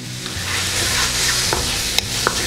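Mushrooms frying in a pan for a green onion and oyster mushroom sabzi, a close, steady sizzle with occasional sharp crackles and spatter pops.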